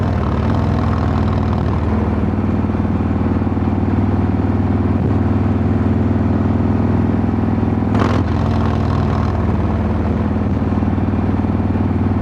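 Harley-Davidson motorcycle being ridden, with a loud continuous engine drone and road rumble throughout and a brief whooshing burst partway through.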